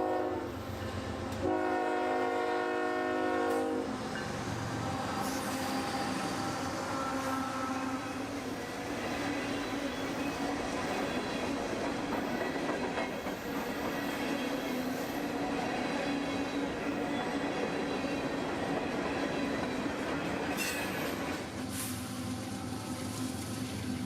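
Freight train Q541 running from Queensgate Yard toward Rice Yard in Waycross, Georgia, rumbling steadily past at close range for the whole stretch, with the horn sounding in a clear blast near the start and another near the end.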